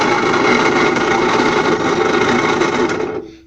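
A Puch E50 moped engine, previously seized and fitted with a makeshift carburettor and throttle, runs with a fast, buzzing mechanical clatter for about three seconds before cutting out abruptly.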